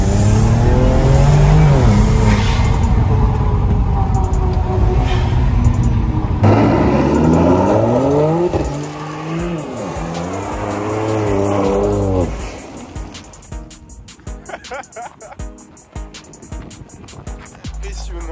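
A BMW 335i tuned to 600 horsepower accelerates hard, its loud engine note climbing in pitch through several gear changes before easing off into a rougher, lower rumble near the end.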